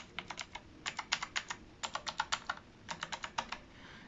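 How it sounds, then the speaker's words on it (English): Full key presses on a HIWING HI300 one-handed mechanical gaming keyboard with blue clicky switches: crisp, sharp clicks in quick bursts of five or six, separated by brief pauses, close and alone. "They have the nice blue little clicky sound."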